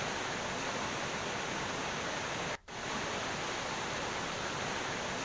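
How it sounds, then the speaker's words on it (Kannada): A constant, heavy roar of rushing muddy floodwater after a cloudburst in Uttarkashi fills the scene, broken by one very brief dropout midway. "ನುಗ್ಗಿ ಬಂತು ಕೆಸರು ಮಿಶ್ರಿತ ನೀರು"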